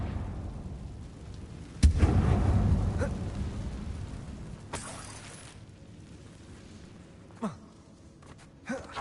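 Confringo spell explosion in the video game Hogwarts Legacy, set in an abandoned mine: a sharp blast followed by a rumbling decay, with a few later smaller bursts and impacts over a low ambient bed.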